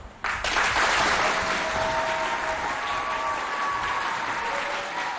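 Applause for a school team at a contest between École Centre Mixte de Mao and École Moto bursts in abruptly and carries on as a full, steady clapping from a crowd, with faint whistle-like tones drifting over it.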